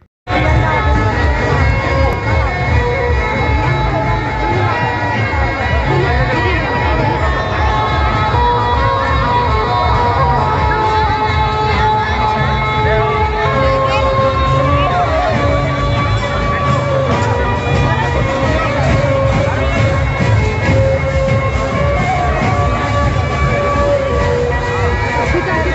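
A large village crowd gathered to welcome a newly appointed Chhattisgarh cabinet minister on his first homecoming, a dense continuous roar of shouting and cheering voices with a steady rhythmic pulse underneath.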